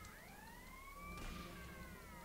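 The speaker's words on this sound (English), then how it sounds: "Hey there, police car. You just showed up quickly." Police car siren in Grand Theft Auto Vice City, a wailing tone sweeping steadily up and down over a low engine rumble, loud and continuous with no talking.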